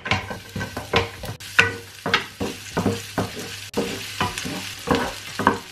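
Chopped onions and garlic sizzle in hot oil in a pan while being stirred, with rhythmic scraping strokes recurring roughly every half second over a steady frying hiss, close and clear with no talking.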